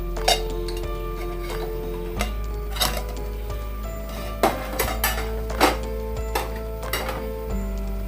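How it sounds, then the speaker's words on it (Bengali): A lid is lifted off a pot of bread pudding that has steamed on a stove for 45 minutes, giving several sharp metallic clinks and clatters spread over the stretch, close by, with no talking. "এখন আমি আমার ঢাকনাটা সরাই নিলাম"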